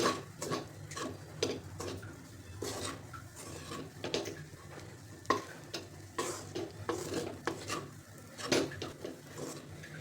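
Moong dal roasting in a pan for traditional halwa, stirred steadily with a spoon. Rhythmic scraping strokes run over a continuous soft sizzle, close and fairly loud, with no voices.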